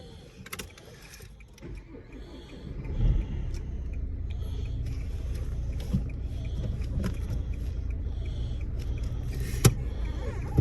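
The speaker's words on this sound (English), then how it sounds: "restart your engine please" A manual Nissan Qashqai's engine restarts a few seconds in, then settles into a steady low idle rumble heard from inside the car, with a few faint clicks and knocks over it.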